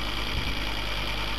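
The main motor of a JHDS 6 machine, set to around 600 RPM, starts and runs with a loud, steady mechanical hum and a deep low rumble, continuous and close, with no talking.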